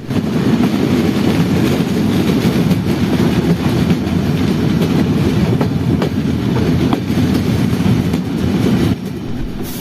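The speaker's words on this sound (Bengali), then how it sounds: "এখন আমাদের সঙ্গে ঢাকা থেকে ছেড়ে আসা খুলনাগামী সুন্দরবন এক্সপ্রেসের সঙ্গে ক্রসিং হবে" Train crossing the Sundarban Express at Mobarakganj station in Jhenaidah, Bangladesh, heard as a loud, steady rumble of a train in motion with rhythmic clickety-clack of wheels on the rails. The noise eases slightly near the end.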